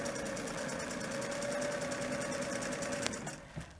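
Sewing machine sewing a straight line of stitches, with a close, steady rhythmic whir and hum throughout that slows and stops near the end with a couple of soft clicks.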